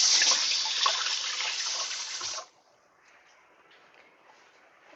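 A tap runs steadily, water pouring to wet a tool used for shaping rosemary lemon bread dough; the close, loud flow stops abruptly halfway, leaving quiet room tone.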